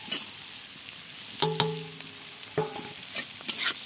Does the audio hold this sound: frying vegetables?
yes